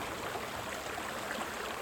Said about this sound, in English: I don't know if this is Ridley Creek or if it's a tributary in the Ridley Creek.